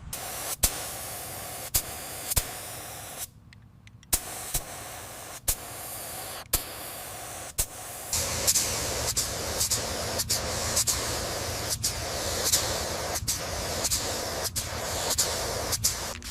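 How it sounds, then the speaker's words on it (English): Steady hiss of a spray gun applying paint to a Porsche 911 GT3 car body, broken by short pauses and sharp clicks as the trigger is released and pulled again, then continuous spraying. "Spraying this color on is the best part."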